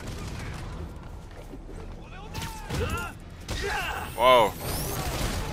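Sniper gunfire in Marvel's Spider-Man Remastered: a few sharp cracks and bursts amid game effects and swooshing sounds, with a brief exclaiming voice.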